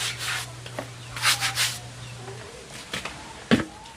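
A brush scrubs stuck material off a wooden surface in a few short, close rubbing strokes with gaps between them, ending in a sharp knock, while a faint low hum runs underneath.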